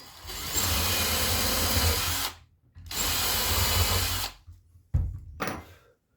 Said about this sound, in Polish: Przewiercam przez dziury normalnie.